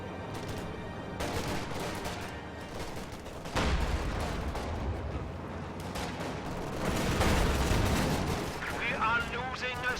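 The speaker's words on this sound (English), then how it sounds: "LMG Grenadiers firing from position in the building" LMG grenadiers fire from a building in a real-time strategy battle, with sustained machine-gun bursts and heavy explosions layered into a loud, busy battlefield din.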